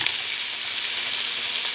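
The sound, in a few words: onions frying in hot cooking oil for fish biryani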